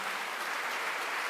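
An audience at an ashram gathering applauds, a dense, steady wash of many hands clapping together for a brief moment with no voices over it.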